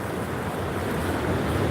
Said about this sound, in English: Those waves are something else.